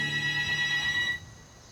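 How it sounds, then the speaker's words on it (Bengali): A telephone sound effect in an audio story rings with bright, metallic, sustained tones for just over a second, then cuts off, leaving a quiet background. "এত সকালে কে ডাকছে টেলিফোনে?"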